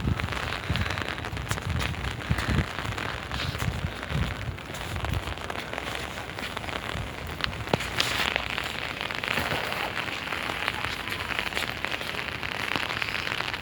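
Steady rain falling outdoors, a dense broadband patter with crackly drops close by, continuous and fairly loud for the whole stretch with no talking.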